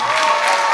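A concert audience at a 2011 Aktau show applauds, a brief, loud wash of clapping and crowd noise with a faint cheer that sounds evenly throughout.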